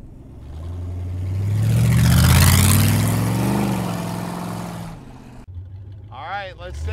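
A 1930 Ford five-window coupe street rod engine roars up to a loud swelling rev, then fades away, and a voice speaks briefly near the end.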